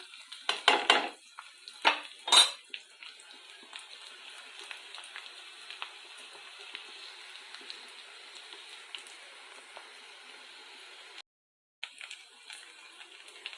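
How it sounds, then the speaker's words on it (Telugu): Pieces of onion and curry leaves fry in a ladleful of oil with a soft, steady crackle, after a few sharp clinks of a utensil against the pan at the start. "పెద్దలిపాయ పీసెస్, కర్రీ లీవ్స్ అండి ఈ విధంగా ఆయిల్లో ఫ్రై అవుతున్నాయండి"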